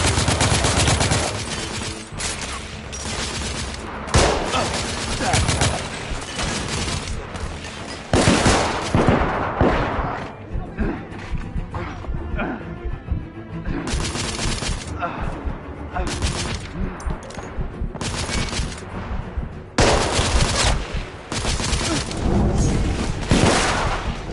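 Heavy gunfire roars in The Order: 1886, dense fusillades and machine-gun bursts coming in loud waves with brief lulls between them, and shouted voices mixed into the battle.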